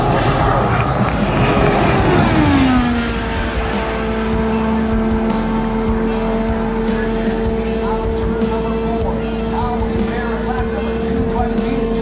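An IndyCar runs a qualifying lap for the Indy 500, its engine a loud, sustained high-pitched drone that slides down in pitch early on, then holds steady. A commentator talks over it.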